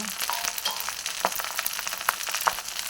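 Peanuts, mint and greens fry in hot oil in a pan, giving a steady, close sizzle with occasional sharper pops and the stir of ingredients.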